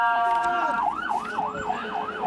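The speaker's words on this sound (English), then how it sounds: "Ambulance coming through." An ambulance siren wails in a rising and falling pattern during a street protest in the West Bank, loud and close, with crowd noise and voices underneath.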